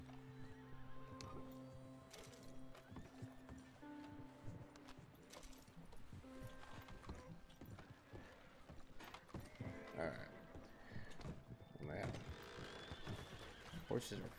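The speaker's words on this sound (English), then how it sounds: "Horses are freaking out." Horses in the Red Dead Redemption 2 video game whinny and neigh repeatedly in agitation, with clip-clopping hooves and creaking around them, close and loud, while someone talks over them.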